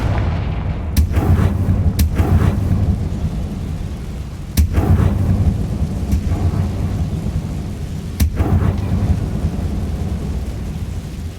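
Confringo spell blasts in the video game Hogwarts Legacy: sharp cracking booms at intervals, about four or five strikes, each with a rumbling tail over a constant dense background roar.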